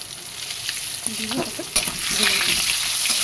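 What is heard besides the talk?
potatoes frying in oil with turmeric and salt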